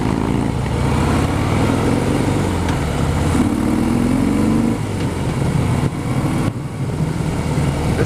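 A 2016 Breakout motorcycle at a demo day rumbles past with a steady, loud engine drone that holds close and level, shifting slightly in pitch, with no talking.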